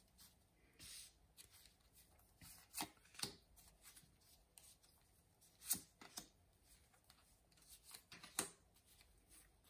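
Tarot cards are shuffled and laid out on a surface, giving faint, close, soft riffles, flicks and slaps in irregular bursts with quiet gaps between them.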